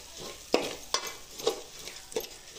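Sprouted moth beans (matki) being sautéed in a pan: faint, quiet frying with four distinct scraping strokes of a spoon spaced about half a second apart.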